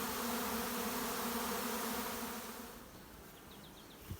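A swarm of honey bees hums in a dense, loud drone that fills the air, then thins and fades over the last seconds, ending with a faint bird chirp.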